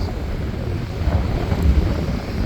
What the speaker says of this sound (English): But it's really windy today.